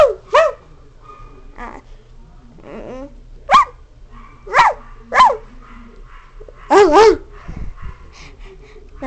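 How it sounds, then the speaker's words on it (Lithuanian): A dog barks close by in a series of sharp, loud barks, some doubled, spaced irregularly across the stretch over a low steady hum. "Kas čia loja?"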